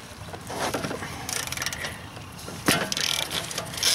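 Rapid ratchet clicks come up close as the rear brake caliper bracket bolts on a BMW F15 X5 are loosened, with bursts of metallic ticking and a sharper clunk near the end.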